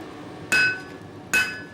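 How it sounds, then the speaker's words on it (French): Two sharp metallic hammer blows on steel, close and loud, each ringing briefly with a bright tone before fading; no talking. "La couleur et le bruit du marteau sur l'acier."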